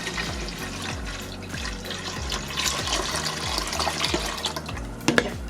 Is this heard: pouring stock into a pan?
yes